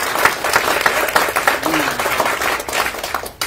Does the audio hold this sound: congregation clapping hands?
yes